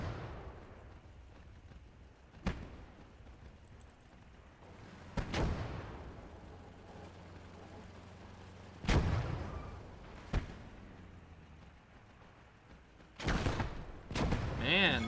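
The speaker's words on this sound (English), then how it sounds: "Man, that is an inaccurate HE round" High-explosive round bursting in Gates of Hell, an Italian-campaign World War II strategy game, with several sharp blasts and thuds spread across the stretch over a low battlefield rumble and occasional talk.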